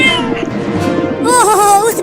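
A cat meows in a drawn-out, wavering cry over steady background voices and music-like tones, fairly close and clear.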